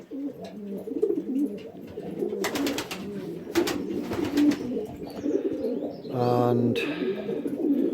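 Lebanon pigeons coo in a loft, a steady murmur of overlapping soft coos with a few flutters and thuds nearby and a brief word of speech.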